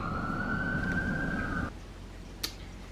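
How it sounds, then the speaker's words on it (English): A distant siren wails steadily, then cuts off abruptly partway through, followed by quiet background and a brief click. "that's a police car, 2 ambulances, and 2 fire trucks in about 10 minutes worth of time"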